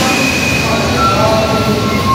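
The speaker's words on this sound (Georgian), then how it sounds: "ჩემი მატარებელიც მოდის." A train pulls into a station with a steady, close rumble of wheels and carriages. Faint metallic squeals ride over the continuous roar.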